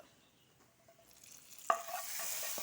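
Hot tempering is poured into a cabbage and dal curry. A quiet stretch gives way to a sudden splash and a rising, steady sizzle close by, with no voice.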